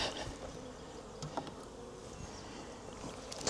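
A small box colony of honeybees hums with a steady, close buzz from a hive box in May, with a few sharper individual passes and faint handling knocks.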